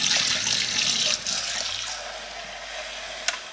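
Tap water runs steadily into a sink as the dirty water tank of a Bissell CrossWave Cordless Max wet/dry mop vacuum is rinsed, a loud broadband rush that eases a little partway through, with a brief knock near the end.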